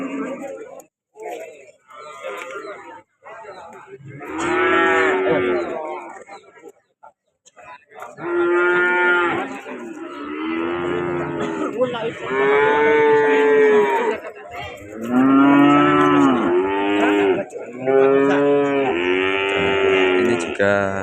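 Cattle moo repeatedly at a busy livestock market, loud, close calls rising and falling in long drawn-out bellows, with people talking nearby between the calls.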